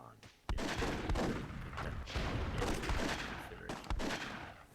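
Cannon fire in Myth II Soulblighter, a WWII-themed match, comes as a string of sharp booming shots, several in quick succession amid rumbling battle noise.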